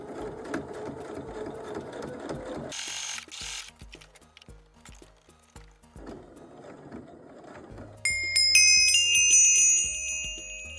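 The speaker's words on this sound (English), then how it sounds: "I'm going to pin this and sew it up." A sewing machine runs in short bursts while a pocket is stitched onto a pair of cargo pants, with pauses between runs and background music entering near the end.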